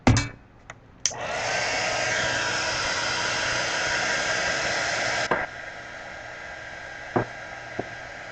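After a couple of sharp knocks, a hair dryer blows steadily for about four seconds to dry wet watercolor paint, a close, loud whooshing roar that cuts off, followed by a few faint taps.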